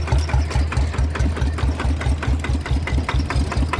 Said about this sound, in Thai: สังเกตเสียงเครื่องมันจะอืดๆนะครับ ตัวนี้คือชาร์จแล้ว